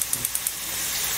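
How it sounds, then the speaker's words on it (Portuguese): Cassava sizzles as it fries in a pan on a large stove burner, a steady close hiss preceded by a few quick ticks of spattering oil. "Eu vou deixar ela aqui fritando."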